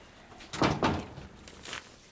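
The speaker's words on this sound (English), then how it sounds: "close the door behind you" A door closing indoors in a TV drama scene, heard as a couple of close, solid thumps and a brief rattle, with no talk over it.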